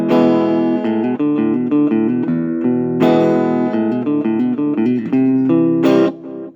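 Guitar playing a simplified rock song, with ringing chord strums and bluesy melodic fills in a flowing rhythm, loud and close, solo without talking.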